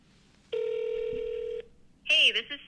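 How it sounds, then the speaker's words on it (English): An incoming call from an AI receptionist rings on a phone, one electronic ringtone burst of about a second, clear and close, followed shortly by a voice starting to speak. "So my phone's ringing."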